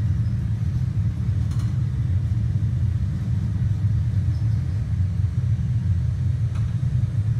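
Airplane engines roar during takeoff just after rotation, a loud, steady low rumble that fills the cabin without letup, with only faint higher noise above it and no talking.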